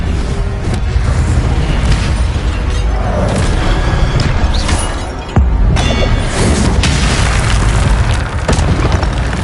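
In a Hogwarts video game, an Incendio fire spell blasts with a loud, roaring burst of flame and rumbling booms, sustained and dense, with a sharp fresh impact partway through and no speech.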